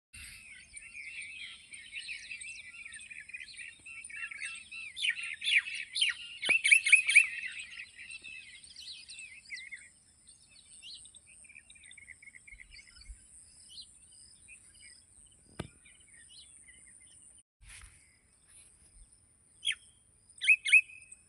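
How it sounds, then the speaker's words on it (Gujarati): Birds chirp and twitter outdoors in a calm, quiet spot, with short bursts of calls over a steady high insect drone. A few sharp louder chirps stand out now and then, and there are no voices. "જો એ પક્ષી કેવા બોલા અત્યારમાં"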